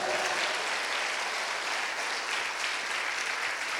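A church congregation applauds loudly and steadily throughout, a dense wash of many hands clapping together with no pauses and only faint voices under it.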